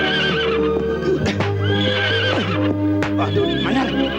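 A horse neighs loudly and close by, a long shrill whinny with snorting and a few hoof clops, while someone speaks over it.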